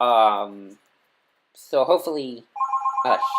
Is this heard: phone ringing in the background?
yes